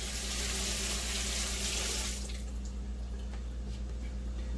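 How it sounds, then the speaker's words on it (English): Running tap water streams steadily into a sink as a hand is rinsed beneath it, loud and broadband for about two seconds, then quieter with a few drips and trickles. "Rinse off my hand."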